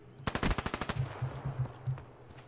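Rapid automatic gunfire in Black Ops 3 on PC, a dense burst of sharp close shots followed by a few spaced single cracks, loud and dry with no talk over it.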